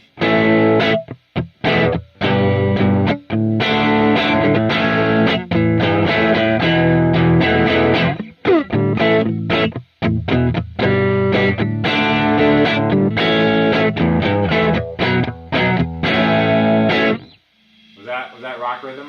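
An electric guitar played through an amp simulator on a rock rhythm growl preset, heavily distorted, bangs out loud chords in choppy bursts with brief gaps, then stops, leaving a faint tail at the end.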